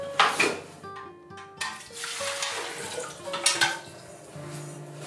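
A pot of water is set on a wood-fired stove: clanking of pots and metal utensils, several knocks and scrapes with faint background hiss.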